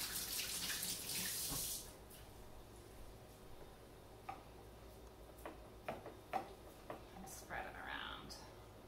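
Tap water runs briefly from a kitchen faucet to wet hands while making a pumpkin pie cake, a loud hiss for about two seconds, then quieter splashes and scattered handling clicks.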